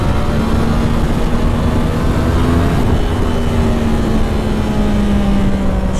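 A 2010 Yamaha R1 motorcycle engine runs loud and close, its steady droning note lifting briefly as the throttle is blipped, with no talking.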